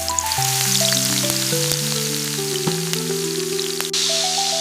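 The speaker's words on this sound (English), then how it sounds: "Cook koftas in skillet." Beef koftas frying in a skillet make a continuous, bright sizzle with scattered pops, heard under a melodic music track with no speech.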